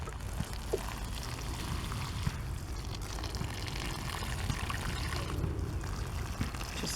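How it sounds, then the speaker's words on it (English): Water pours steadily onto potting mix in small herb seed pots, a soft continuous wet patter and trickle heard up close with no voices. "So I'm going to go ahead and water all these in."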